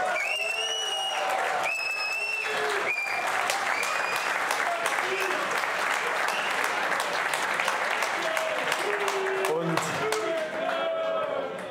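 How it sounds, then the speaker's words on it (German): Football fans at a post-match fan talk after a home win over MSV Duisburg break into sustained applause, dense clapping filling the room at full volume, with whistles and cheers riding over it. "wenn es jetzt schon Applaus gab, dann wird der Applaus jetzt gleich noch viel lauter"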